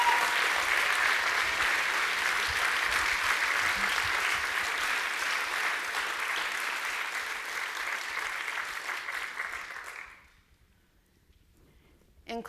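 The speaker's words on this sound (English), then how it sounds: "Can I hear a round of applause for their courage," A conference audience at an international restorative practices gathering gives a loud, sustained round of applause that holds steady for about ten seconds and then cuts off sharply into near silence, with a faint noise at the very end.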